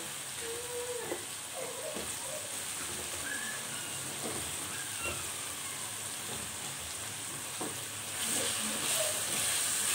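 Potatoes and green chillies frying in masala in a pan, giving a steady, soft, even sizzle with faint crackles and occasional light scrapes throughout, no voices.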